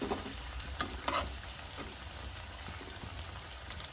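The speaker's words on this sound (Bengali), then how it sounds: "আর অনেকগুলোই টিফিন কিন্তু তেলেতে একসঙ্গে ভাজা যায়" Several egg-and-flour snacks fry together in hot oil, giving a steady, close crackling sizzle with small sharp pops and no voices.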